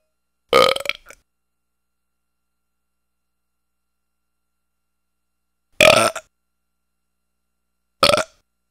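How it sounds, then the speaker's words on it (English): Three loud, close burps, one long and drawn out, then two shorter ones several seconds later, separated by near silence. "I had like 3 monstrous burps that were like hidden in my chest"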